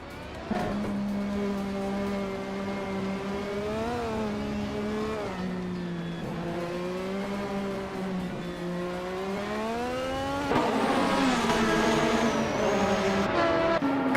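Race car engines whine and rise in pitch as cars overtake during a video game race, with several overlapping engine tones climbing and falling together and a louder, brighter surge near the end.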